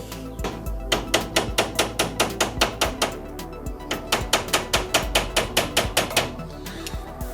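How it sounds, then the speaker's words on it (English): A hammer taps a steering shaft from a 1994 Jeep Grand Cherokee into place on a V8 S10, a long run of sharp, evenly spaced metallic blows close by, pausing briefly midway before resuming at a steady rhythm. "Let's go a little bit more and tap it on."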